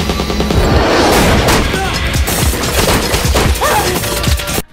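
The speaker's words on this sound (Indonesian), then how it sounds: "Masing-masing anak buah Paul menembakkan senjata secara babi buta mencari keberadaan si penembak" A film shootout erupts with rapid, overlapping gunfire, loud close bursts and crashing impacts piling on one another for several seconds before cutting off abruptly.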